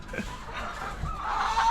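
Chickens cluck softly in a coop during cleaning, a few short clucks and murmurs at moderate distance over faint background noise.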